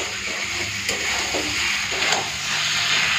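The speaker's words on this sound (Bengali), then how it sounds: "মাংসটা দিয়ে দিয়েছি, এরপর একটুখানি ভালো করে কষে নিই" Chicken meat sautéing in oil in a pan for chicken curry, a steady, close sizzle and hiss with a couple of faint stirring scrapes.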